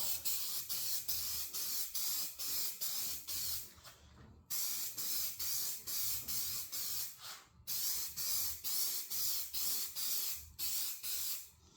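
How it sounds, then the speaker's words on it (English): Gold spray paint hisses from an aerosol can onto a TPU 3D print in rapid short bursts, three runs of rhythmic pulses separated by brief pauses, close and loud with no speech. "Alright, so go ahead and get this sprayed."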